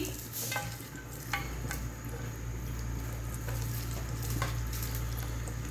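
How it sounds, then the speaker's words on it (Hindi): Onions frying in a pan for chicken haleem, a steady close sizzle with occasional stirring scrapes, no talking. "इसको अच्छे तरीके से मैं गोल्डन ब्राउन करती हूँ"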